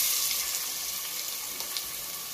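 Onions drop into hot oil for a mutton and drumstick curry, giving a faint hissing sizzle with light crackles throughout, no voices.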